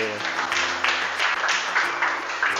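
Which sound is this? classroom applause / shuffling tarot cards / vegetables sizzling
classroom applause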